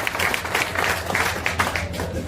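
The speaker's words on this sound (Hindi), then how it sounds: "एक बार जोरदार ताली आप अपने प्रयास के लिए लगा दीजिए।" Audience clapping at a Jan Suraaj political gathering in Bihar, a steady patter of many hands with sharper individual claps popping through, fairly close and moderately loud, with some low background murmur underneath.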